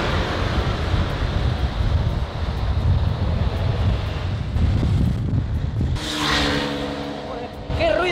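Other motorcycles on the road heard from an electric motorcycle ride: heavy wind rumble throughout, then a nearby engine passes with a rising, whining pitch toward the end.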